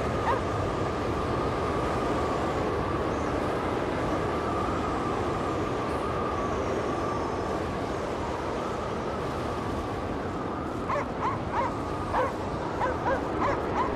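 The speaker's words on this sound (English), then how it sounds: "Ah, and the dog's got further away." Dog in the Cryostasis video game barking in short yips near the end, faint and distant, over a constant low mechanical rumble, no talking.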